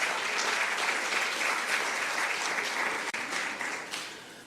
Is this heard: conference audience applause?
yes